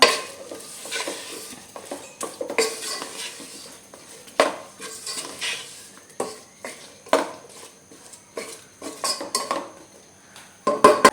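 Chopped lime is stirred into a pickle mixture in a pan, making repeated clinks and scrapes of a spoon against the metal at an uneven rhythm over a soft background sizzle.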